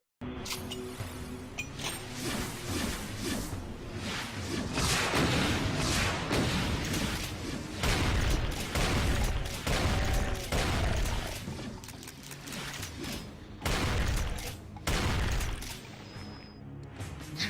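Rocket blasts in the shooter game Doom 2 go off in a rapid series of heavy, booming bursts over in-game music, some overlapping, with brief lulls between volleys.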